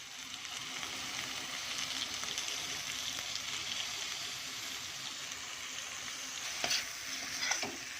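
Eggplant stir-fry (kathirikkai perattal) frying in oil in a pan, a steady close sizzle across the whole clip with a couple of sharper stirring scrapes near the end.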